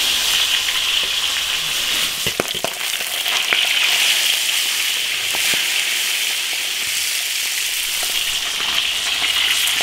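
Fish frying in oil in an iron wok for a home-style doubanjiang crucian carp dish, a steady close sizzle with a few sharp crackles and pops near the middle, no talk.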